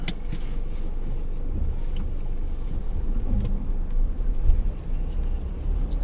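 A car drives along an empty road on a snowy spring morning in Mississauga, Canada, giving a steady, close low rumble of engine and tyre noise with faint rushing wind and no talk.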